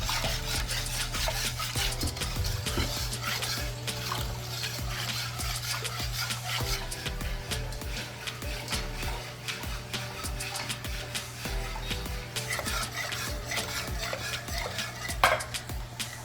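Lemon zest and sugar stirred into an Easter bun mixture in a bowl, a continuous soft scraping and clinking of a utensil against the bowl at close range over a low steady hum, with no talking.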